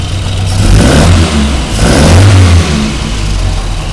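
A 1963 Sprite engine with richened carburetors runs loud and close, revving up twice in strong surges before settling back to a steady idle, with no talking.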